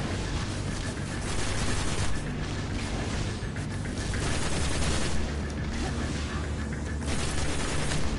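Rapid assault rifle fire in the shooter game Destiny, sustained and dense, mixed with booms and mechanical clatter in a continuous, busy burst of combat noise with no clear voices.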